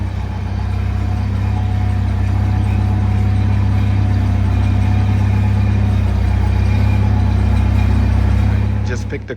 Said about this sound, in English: we gonna forklift it over to Richie real quick